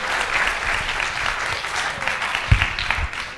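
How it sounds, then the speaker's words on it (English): An audience at a conference panel session applauds the speakers, steady close clapping from many hands with a few sharper claps standing out, no speech over it. "give a round of applause to the panel speakers"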